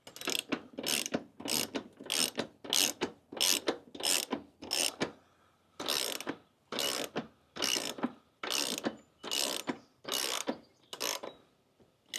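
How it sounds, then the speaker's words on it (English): Hand ratchet clicking steadily while loosening the lug nuts to remove a wheel from a dually truck: repeated rapid bursts of ratcheting clicks in a regular back-and-forth rhythm, close and fairly quiet, with no talking. "I'm about to just take this wheel off and take it to my buddy"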